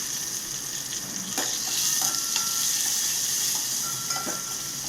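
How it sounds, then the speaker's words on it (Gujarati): Curry leaves and chopped chillies sizzle and crackle steadily in hot oil for a tempering for khaman, close and continuous, with occasional light clinks of a spoon. "લીમડાના પાન અને મરચાના કટકા બધું જ આપણે તેલની અંદર એડ કરી દઈશું"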